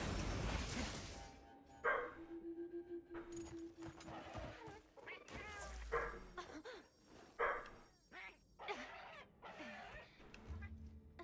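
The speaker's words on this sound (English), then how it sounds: "I think they're barking at my husband." Several dogs barking indoors, loud irregular bursts of barks spread through the clip, with someone talking between them.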